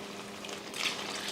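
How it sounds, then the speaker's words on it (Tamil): Water poured into a pot of spiced curry mixed with coriander and chilli powder, a soft continuous splashing hiss that swells slightly near the end, close by and alone. "இப்போ தண்ணி சேர்த்துடலாம்"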